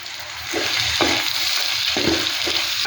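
Small shallots fry in hot oil in a pan, a continuous close sizzle with several soft stirring scrapes spaced through it, no voices.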